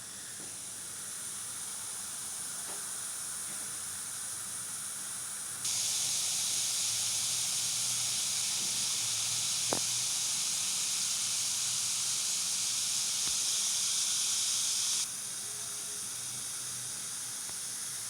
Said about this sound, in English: When citric acid and baking soda are mixed in water,